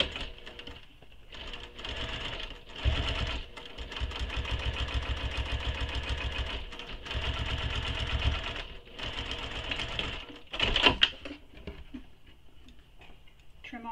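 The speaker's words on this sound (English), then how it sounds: "So increase your stitch length and stitch along that edge" A sewing machine top stitches along the edge of a sling pack's back bottom at a long stitch length, a steady close rhythmic chatter in long runs with brief pauses and a faint voice in the background.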